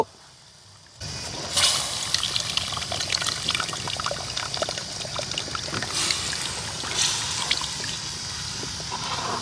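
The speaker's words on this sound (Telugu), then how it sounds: "కొద్దిగా నీళ్ళైతే పోసుకుందాం" Water is poured into a pot of Nellore-style tamarind fish curry, a steady liquid pour and trickle starting after a second of near silence and running on with some splashing and kitchen clatter.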